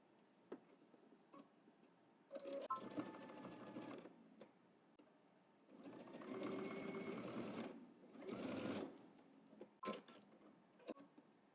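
A sewing machine stitches a seam on a garment from the Know Me ME2117 pattern, running in three separate bursts of steady mechanical whirring with short quiet pauses between them, close and clear.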